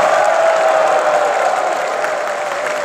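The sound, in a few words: audience applause for DPC members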